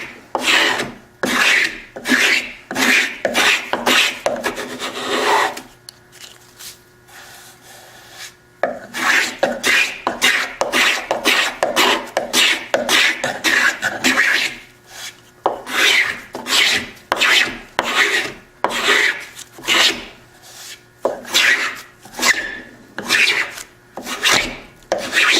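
A hand scraper made of pear wood works the wooden surface of a step chair in quick rhythmic rasping strokes, close and crisp, in repeated bursts separated by short quiet pauses.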